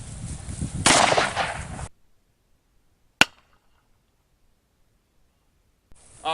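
A single sharp gunshot from a Ruger Blackhawk revolver chambered in .357, cracking out alone in near silence after a burst of louder noise fades.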